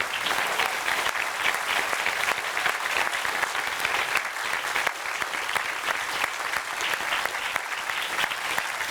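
Sustained applause from a large crowd, dense and even clapping that continues steadily throughout.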